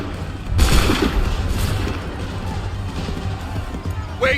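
A volley of musket fire in the Assassin's Creed III video game, one loud massed crack followed by a long rumbling, crackling decay and lingering battlefield noise, with a brief shouted voice near the end.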